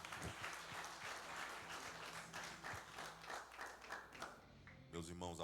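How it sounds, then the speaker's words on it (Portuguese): A church congregation claps steadily in a large room, dense continuous applause with a voice speaking over it near the end. "Aplauda Jesus, receba o servo do Senhor."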